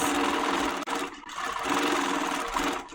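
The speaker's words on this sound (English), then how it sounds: "In cruise, the machine will keep stitching in place if you stop moving." An HQ Moxie 2.0 quilting machine stitches continuously in cruise mode, a loud, steady motorized whir with a rapid needle rhythm and one brief dip in the sound.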